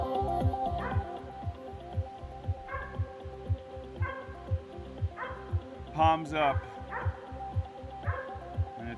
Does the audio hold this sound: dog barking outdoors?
yes